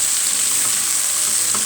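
Mushrooms frying in a pan give a steady, loud hiss and crackle, constant throughout with faint stirring and no voices.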